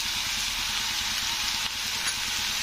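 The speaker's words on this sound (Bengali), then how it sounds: "লবণটা দিয়ে আবারও আমি একে একটু ওপর নিচ করে কষে নেব" Masala seasoned with salt sizzles as it is stir-fried in a pan for a bottle gourd dish, a steady close hiss that runs unbroken without talk.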